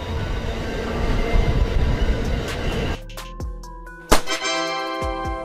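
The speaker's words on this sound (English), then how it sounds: "Amtrak Train." An Amtrak passenger train rumbles past loudly, then gives way to ringing bell-like tones and sharp metallic clanks as the noise thins out.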